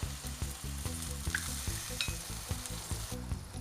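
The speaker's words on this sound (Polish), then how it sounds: "układamy na grillu. Pieczemy z obydwu stron" Sausages, basted with leftover pineapple marinade, sizzle steadily on a grill while being turned, with a regular pulsing rhythm of low thumps under the continuous frying hiss, close and moderately loud.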